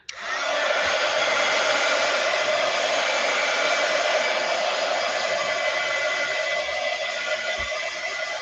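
A hair dryer blows steadily on a textured craft project, a loud, continuous whooshing roar that runs almost unbroken from start to finish with no talking over it.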